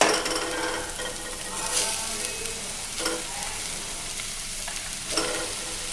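Vegetable noodles with pepper are stir-fried in a pan, giving a steady close sizzle broken by bursts of scraping and tossing from the spatula, with no voices.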